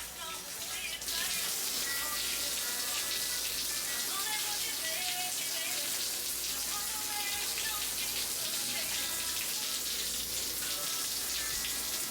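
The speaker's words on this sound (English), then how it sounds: "And then I'm going with an African net sponge with this coconut and vanilla body wash." Water runs and splashes steadily while skin is scrubbed with an African net sponge and coconut vanilla body wash, a loud, continuous wet hiss close up with no clear voice.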